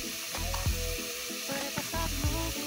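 Onion, red pepper and garlic sautéing in oil, a close bright sizzle with several clattering stirs and scrapes of a utensil against the pan.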